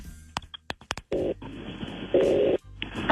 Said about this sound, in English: We're going to make the phone call right now